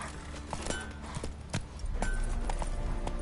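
Roach, the horse in The Witcher 3, trots along with steady clip-clopping hooves over a busy game ambience, hoofbeats close and rhythmic, no talking.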